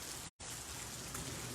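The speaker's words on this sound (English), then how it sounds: "It's raining, raining, raining." Steady rain falls during an evening storm around a home in Frisco, Texas, a dense, continuous hiss of drops on surfaces that drops out briefly before resuming at the same even level, with no voices.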